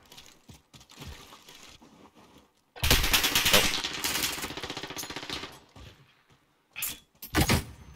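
Gunfire in Call of Duty: Modern Warfare crackles in quick automatic bursts, with a dense loud stretch in the middle and short sharp volleys near the end, alone without talk.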